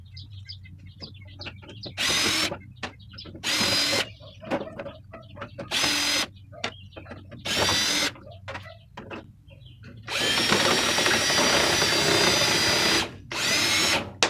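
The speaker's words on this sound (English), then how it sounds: "we're going to want to take these screws out that are holding the coils together" Power drill backing crusted, corroded screws out of an evaporator coil being scrapped, a series of short loud whirring bursts separated by quiet gaps, then one longer sustained run near the end.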